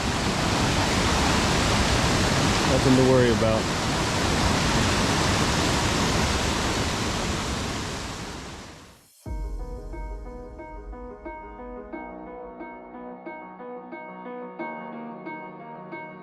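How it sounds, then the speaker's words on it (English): Waterfalls in the Pyrenees on a hike up Pico Posets give a loud, continuous roar of rushing water for about nine seconds, broken by a brief spoken remark. The sound then cuts out abruptly and music follows. "Here's another view of the waterfalls here"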